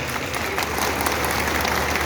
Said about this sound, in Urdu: آپ کی تالیاں بتائیں گے۔